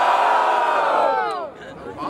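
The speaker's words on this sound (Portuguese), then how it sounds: "Eu acho que o Krauk teve mais grito" Dense crowd at a Brazilian freestyle rap battle in Barueri, São Paulo, shouting and cheering loudly and continuously, fading slightly near the end.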